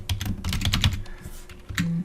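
Computer keyboard typing in quick bursts of close, crisp keystrokes, a pause, then a short final flurry of keys.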